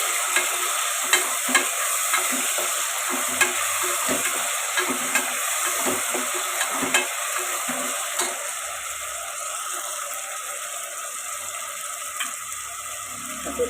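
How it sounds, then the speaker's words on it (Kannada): Green chillies and dried fenugreek leaves fry in hot oil for goat leg soup, giving a constant hiss with regular light scraping taps from stirring, close and even throughout with no voices. "ಇದನ್ನು ಎಣ್ಣೆಲಿ ಚೆನ್ನಾಗಿ ಬಾಡಿಸ್ಕೊಳ್ಳೋಣ."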